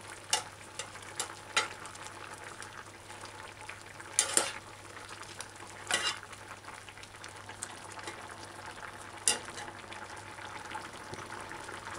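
Okra and other vegetables fry in a pot with a steady hiss and sizzle, with occasional louder stirring scrapes and bubbling close by.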